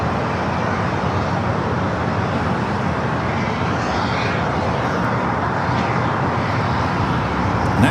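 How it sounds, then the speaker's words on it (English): An airliner takes off at LAX, a broad, steady jet roar that holds at constant strength throughout with no voices. "Next takeoff there on the north side."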